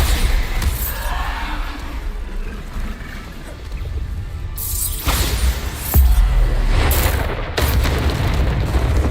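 Bombarda spell explosions in a video game, heavy booming blasts with a rumbling low end, several distinct loud impacts spread across a noisy, continuous battle background.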